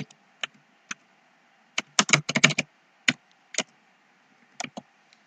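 Typing on a computer keyboard, near and fairly quiet: scattered single key clicks, then a quick burst of rapid keystrokes, then a few more isolated taps with pauses between.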